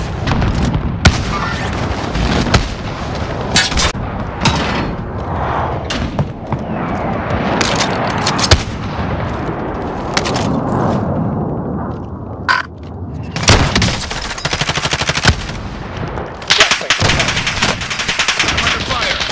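Dense gunfire and bursts of machine gun fire in a Call of Duty: Modern Warfare firefight, loud and continuous with sharp cracks and heavy booms throughout, and brief voice callouts mixed in.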